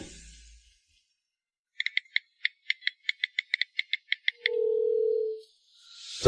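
A mobile phone call begins with a quick run of about fifteen sharp clicks, then a single steady tone holds for about a second before fading, with no one speaking.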